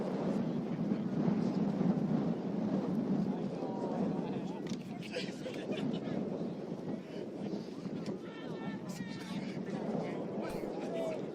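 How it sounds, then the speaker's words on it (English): Wind buffets an outdoor microphone at an evening sports match, producing uneven low rumbling gusts that swell and fade, with a commentator talking over it and faint distant shouts. "Getting windy now."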